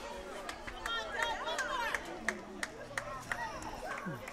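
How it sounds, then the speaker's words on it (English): A home crowd at a high school baseball game claps in scattered, uneven bursts amid chatter and general murmur, with voices talking throughout. "Home crowd clapping, making some noise."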